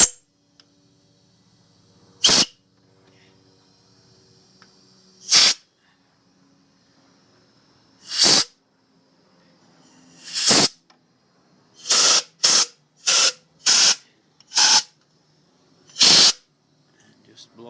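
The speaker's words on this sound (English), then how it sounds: "blow out the intake just to make sure nothing fell in there" Compressed air blows out the intake of a GM 3.8L 3800 engine in a series of sharp hissing bursts, first widely spaced, then in quick succession, close and loud between quiet pauses.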